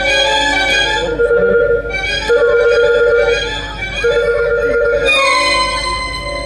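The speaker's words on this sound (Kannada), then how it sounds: "ಸಂತೋಷ ಫೋನ್ ಮಾಡ್ತಾ ಇದ್ದೇನೆ." A telephone rings in three loud, close bursts of a warbling, repeated ring, with short pauses between them and no one speaking.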